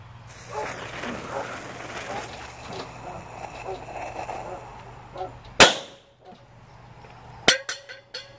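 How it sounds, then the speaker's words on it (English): A Black Cat slow-burning waterproof firecracker bursts under a tuna can with one sharp, loud crack, followed about two seconds later by a second crack and metallic clinks. Quieter outdoor ambience fills the seconds before. "tuna fish can versus Black Cat Safety Fuse Slow Burning Waterproof Firecracker"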